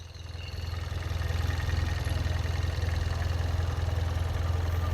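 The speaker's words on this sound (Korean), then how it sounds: "터보 GDI 엔진의 소음 한번 들어보도록 하겠습니다" A Hyundai Veloster 1.6 turbo GDI engine idles with the hood open, a steady, smooth low hum and even vibration heard up close with no talk.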